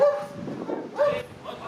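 A dog guarding a house near a campground entrance in Cuenca, Ecuador, barks in three short, fairly close bursts, with quiet gaps between them.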